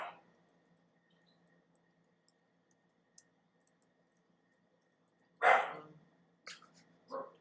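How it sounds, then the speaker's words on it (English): A dog gives a few sharp barks after a long quiet stretch, one loud bark followed by two shorter ones, fairly close by. "It definitely picks up the dog."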